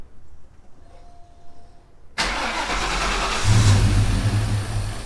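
A car engine cold starts after a quiet pause: a sudden crank catches into a loud, close idle, which then rises into a rev before easing back, with no talking.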